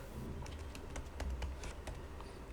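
Soft, quick keystrokes on a computer keyboard while entering a short word of Python code, a scattered run of light taps at a steady moderate pace over a low room hum.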